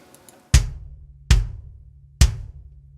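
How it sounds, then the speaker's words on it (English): A custom-made bass drum sample for a metal drum mix hits three times in isolation, each a punchy, deep thump with a sharp click attack and a short low-end decay, spaced at slightly uneven intervals. "a new bass drum that sounds like this"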